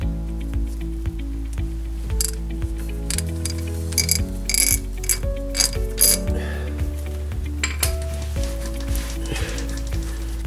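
A ratchet wrench loosens a 14 mm brake caliper bolt, giving a loud, steady run of close, regular clicks that goes on throughout with a few heavier knocks. Nobody speaks.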